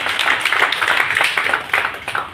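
A seminar audience in India claps in an uneven, scattered rhythm, individual hand claps close and fairly loud, rising and thinning across a couple of seconds.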